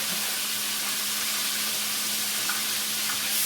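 Pork chops fry crispy in a pan with a steady, dense sizzle and hiss that holds evenly throughout, close and fairly loud with no voices.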